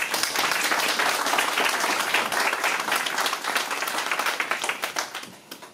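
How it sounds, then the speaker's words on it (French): A crowd at a French opposition group's New Year greetings event in Corbeil-Essonnes applauds, with a dense wash of clapping that thins into scattered individual claps over several seconds. "Je voudrais qu'on vous applaudisse."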